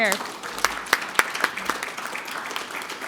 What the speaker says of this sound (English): A round of applause for everybody over here.